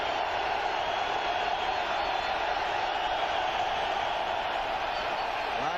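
A steady, far-off roar rises from a stadium crowd at the 1993 Lions at Vikings football game as the fourth quarter begins. The cheering stays even and unbroken from start to finish.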